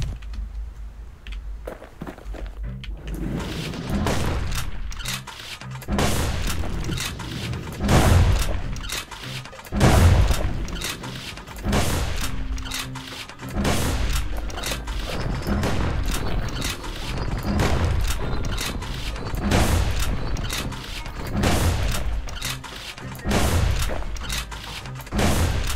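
Gunfire from the video game Bastion: repeated punchy shots and booms in a steady, rapid rhythm over a continuous game soundscape, loud and close, with no talking.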